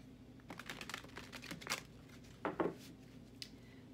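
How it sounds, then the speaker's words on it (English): A deck of tarot cards is shuffled close by in small hands, giving soft irregular riffling and flicking bursts that rise and fall, with a sharper cluster of card snaps near the end. "My hands are so small, it's so hard to shuffle sometimes."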